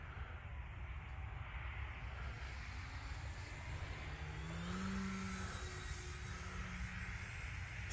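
An E-flite Extra 300 RC airplane flying in calm air, its electric motor a faint steady whine from a distance that swells briefly as it passes, with no talking.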